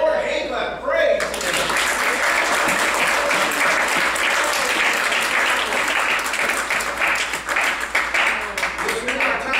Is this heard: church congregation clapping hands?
yes